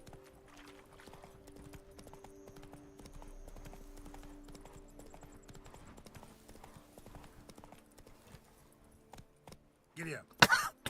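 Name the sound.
horse hooves galloping in video game Witcher 3: Blood & Wine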